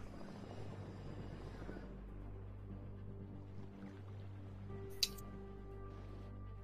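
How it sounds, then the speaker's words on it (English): Helicopters in the real-time strategy game WARNO, including a Cobra and an Apache, make a steady low rotor drone that fills the background throughout, with a brief sharp click near the end. "I'm gonna put big ol' helicopters everywhere."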